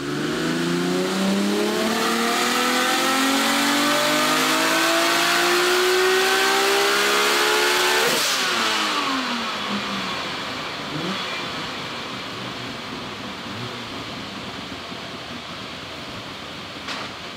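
A turbocharged 1000hp Nissan RB26 engine in an R32 Skyline revs hard on a dyno at roughly 30 psi boost, a loud rising wail climbing steadily for about eight seconds, then dropping away as it backs off and idles down, with no talk.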